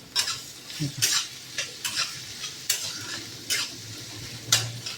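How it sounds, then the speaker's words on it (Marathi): Chopped onion for pav bhaji sautéing in a pan over high heat, a steady close sizzle broken by regular scraping stirs of a spatula against the metal, roughly every second. "कांदा परतून घ्यायचा छान"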